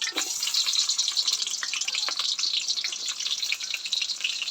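Onion and bay leaves sizzle steadily in hot oil for a one-kilogram batch of pulao, a dense crackling hiss with scattered pops that stays close and continuous throughout, with no talk.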